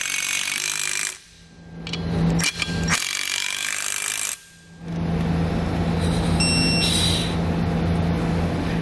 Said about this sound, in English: Then I'll come back with a 9/16 socket and snug up my hardware.